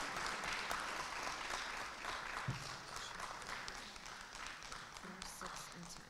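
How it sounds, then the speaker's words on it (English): Audience applause for spellers at a district school spelling bee, a steady, fairly faint wash of clapping that carries on for several seconds without a break. "Let's give our spellers a round of applause."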